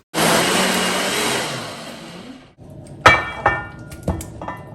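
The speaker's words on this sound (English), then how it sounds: "I'm going to blend all my natural spices together with the onions," A kitchen blender whirs loudly through spices, onions, ginger and garlic for a couple of seconds, then winds down and stops, followed by several sharp knocks and clatters.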